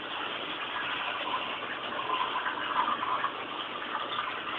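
Water poured into a home fish tank during cleaning, a steady, close, continuous gushing rush that swells slightly midway and keeps going throughout without any talk.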